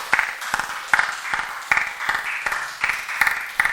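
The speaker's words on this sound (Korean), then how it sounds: "우리 네 분을 박수로 환영하겠습니다" Church congregation claps to welcome visiting guests, producing sharp, evenly spaced claps in a steady rhythmic beat, moderately loud within the sanctuary.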